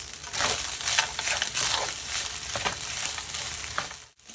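Peas and carrots frying with a cup of cooked rice in a pan, a steady close sizzle with soft scraping and stirring bursts throughout, fading out at the very end.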